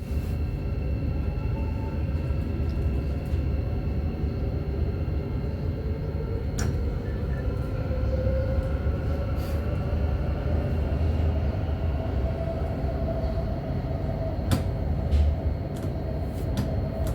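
Thameslink train running non-stop from St Pancras toward St Albans City, heard from inside as a steady, loud rumble of wheels and motors with faint rail clicks and squeals throughout.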